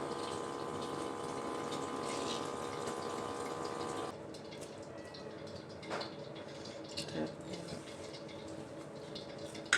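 Water runs and splashes faintly as soaked dahi bhalle, fried lentil dumplings, are squeezed out by hand into a dish in a home kitchen, a steady trickling wash with a few soft drips.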